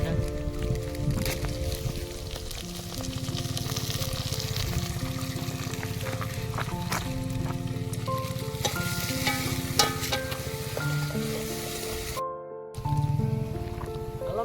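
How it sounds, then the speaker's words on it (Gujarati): Green chillies fry with onion and potato in a pan for Pahadi-style Maggi, a steady crackling sizzle running throughout with occasional stirring clatter and a voice talking over it at times. "હવે બે મિનિટ મરચાંને ફ્રાય થવા દઉં"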